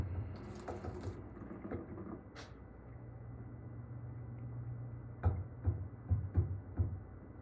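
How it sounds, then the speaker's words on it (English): Water trickling from a tap into a sink, first a steady flow, then a series of distinct drips falling in quick succession near the end. "let's get this to a small drip here."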